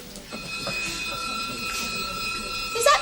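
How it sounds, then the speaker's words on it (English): A school fire alarm sounds as a continuous high electronic ringing tone, moderately loud, while people talk over it. "Is that the fire alarm?"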